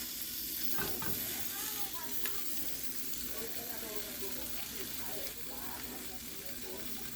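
Chopped bacon pieces sizzle in a pan, a steady hiss of frying that runs throughout with a faint clatter of stirring, at close range and with no talk.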